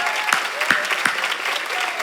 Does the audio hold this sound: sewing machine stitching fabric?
no